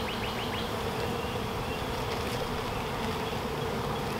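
Honey bees from a newly installed package swarm around their hive, a dense, continuous buzzing drone that stays loud and close throughout with no voices.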